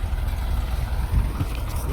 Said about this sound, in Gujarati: બાકી ટ્રેક્ટરનો અવાજ આવશે